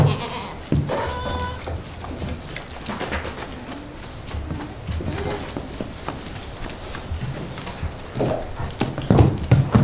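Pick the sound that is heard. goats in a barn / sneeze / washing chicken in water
goats in a barn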